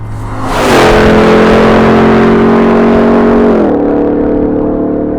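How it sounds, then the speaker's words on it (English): Hennessey Mammoth 1000 TRX truck accelerates hard, the loud close engine roar rising sharply then holding a droning pitch before a shift near the end. "This enormous vehicle has no business being that fast."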